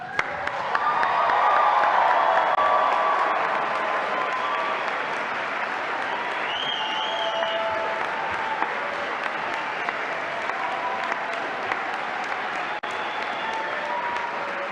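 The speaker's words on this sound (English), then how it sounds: "give a huge and noisy round of applause for everyone in this room" A huge, noisy round of applause from graduates at a University of Northampton class of 2017 graduation ceremony, loud and sustained throughout with scattered cheers and crowd noise, swelling early then holding steady.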